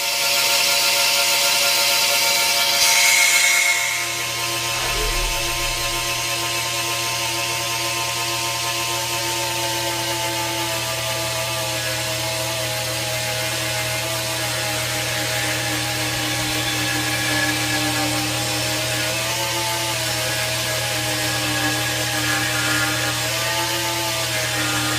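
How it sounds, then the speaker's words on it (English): A small lathe hums steadily as a wooden yard for a model ship spins on it and is hand-sanded, a constant close whine with a louder buzzing start that settles into an even drone. "these we'll put on the lathe and hand sand once we get it down to a diameter of 3mm"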